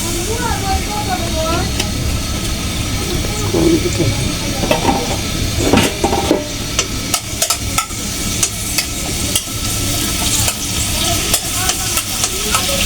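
Onion frying in oil in a wok, a steady loud sizzle with repeated scraping stirs and clinks of a spatula against the pan, close up, continuing throughout with a voice talking over it.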